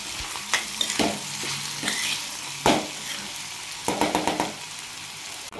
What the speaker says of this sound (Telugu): ఇంకా కొద్దిసేపు వేగనిద్దాం.